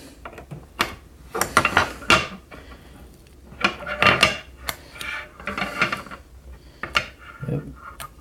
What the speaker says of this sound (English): I take my X-Acto knife and I get it under there